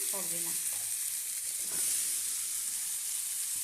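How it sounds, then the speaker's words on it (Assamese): Drumstick pieces (sojina) fry with spice masala in a pan for an Assamese mustard recipe, giving a loud, continuous close-up sizzle and hiss throughout. "চজিনাখিনি দি ভালকৈ অকণমান লৰাই ধুনীয়াকৈ ভাজি ল'ম।"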